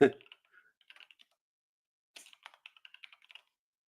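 Typing on a computer keyboard, a short burst of quiet clicks, a pause, then a longer run of light keystrokes, close and faint.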